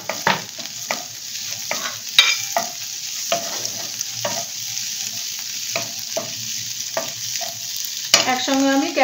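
Onion and garlic fry in a pan as a spoon stirs them, with a steady soft sizzle broken by irregular scraping strokes, close up and without talk.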